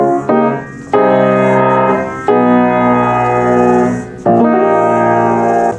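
Piano chords from a song's outro step downward, four sustained chords struck in turn and left ringing, played alone.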